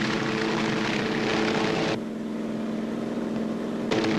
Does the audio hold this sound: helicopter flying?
yes